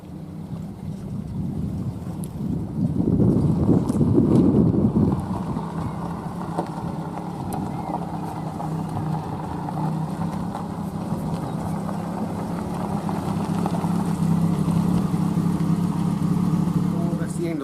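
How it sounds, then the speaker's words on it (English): A pickup truck carrying a homemade camper shed on its back drives along, giving a steady low road and engine rumble with wind buffeting that swells louder for a few seconds early on, then settles into an even drone. "I did put a bit just with the camper van driving"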